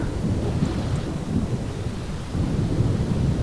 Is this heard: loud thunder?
yes